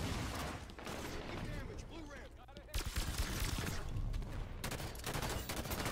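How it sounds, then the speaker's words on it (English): A brute plasma rifle fires rapid sustained bursts in Halo 5 multiplayer, dense crackling volleys layered with other game effects and weapon fire, with a voice talking over the action. "Gotta love the brute plasma rifle. That thing just melts people."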